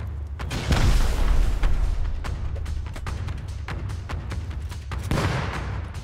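Explosions in the survival game Rust rumble as deep, booming thuds over a continuous low roar, with several heavier blasts near the start and end and no talk.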